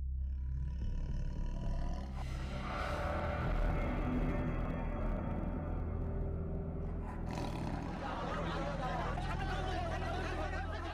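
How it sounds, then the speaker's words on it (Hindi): A captured man-eating Bengal tiger in a Sundarbans village roars and growls, loud and sustained, under a murmur of crowd voices and steady low background noise. "ये बाघ कुछ दिनों पहले इस गांव में घुस आया था।"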